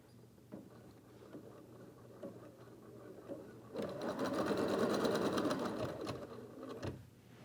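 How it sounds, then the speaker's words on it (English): Embroidery machine stitching fabric down onto an in-the-hoop USB fob, starting with soft scattered taps, then breaking into a rapid, loud mechanical whir of needle strokes for several seconds before stopping abruptly. "we'll go back to the embroidery machine. In the next stitch sequence, we'll tack down that fabric."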